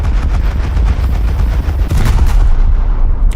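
Heavy naval guns on a warship firing at an enemy ship in the War Thunder video game, a rapid rolling barrage of loud booming shots that runs continuously with a stronger blast near the middle.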